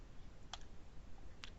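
A computer mouse clicks to save a page in a web editor: two short, sharp, quiet clicks about a second apart over a faint background hiss.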